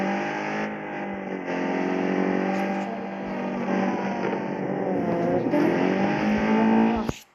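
A simulated car engine from the Car Parking Multiplayer game drones loud and continuous, its revving pitch rising and dipping as the car drives, with no voices over it.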